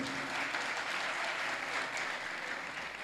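An audience at a French-language address about Dominicans fighting racism in the Dominican Republic breaks into steady, sustained clapping, a dense patter of many hands with no break.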